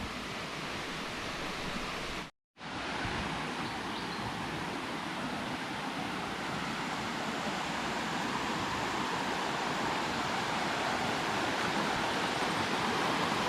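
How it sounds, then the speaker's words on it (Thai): Water from the stream of Kok Durian waterfall in Nakhon Nayok rushes steadily as a dense, broadband wash. A brief cut of silence interrupts it early on, then the flow continues, close and loud with no voices. "ตัวนี้ก็จะเป็น ลำธารของน้ำตกโกกทุเรียนนะครับ"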